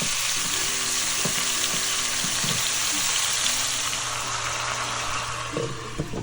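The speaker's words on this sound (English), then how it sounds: "We are going to braise the oxtail to get a nice brown color." Oxtail browns in hot oil in a pan over medium heat, giving a dense, even sizzle that holds steady throughout, with a few faint clinks and hums underneath and no talk.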